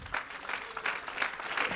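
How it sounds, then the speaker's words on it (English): A church congregation claps hands together in a steady rhythmic beat, soft and somewhat distant, with no voices over it. "Would you clap your hands to the Lord tonight?"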